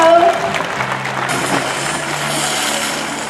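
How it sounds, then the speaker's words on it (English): Crowd applause in a SeaWorld show stadium after an orca demonstration, a broad clapping wash rising and holding under a brief voice and tonal music at the start. "Let's give them a big round of applause."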